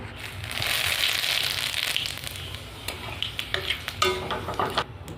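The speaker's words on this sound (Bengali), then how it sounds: "আলুগুলো ভেজে নেবো" Pieces of potato fry in hot oil with a steady, loud sizzle, then turn to scattered crackles and stirring clatter as they are moved in the pan.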